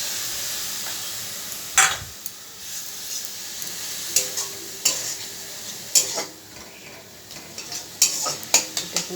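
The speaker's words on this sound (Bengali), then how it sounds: "এটা এখন ভাজা ভাজা হবে" Spices with turmeric and a splash of water sizzle and fry in a pan, with steady crackling and occasional stirring scrapes and utensil clinks, close and moderately loud with no talking.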